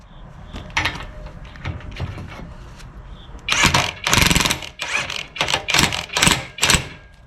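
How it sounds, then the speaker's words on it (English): An impact wrench spins a forcing screw down, pressing a used bearing cap into a driveline yoke with a Tiger Tool driveline kit. A few light clanks come first, then a run of loud, close, rapid hammering bursts with no talk. "let me just grab the impact and we'll run that down"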